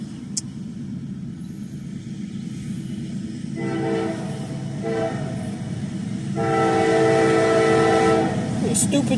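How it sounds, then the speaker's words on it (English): A train rolls past as its loud horn blares in two long, sustained blasts over a steady rumble of rail cars; the horn is sounded at deer near the tracks. "That's what they honk for."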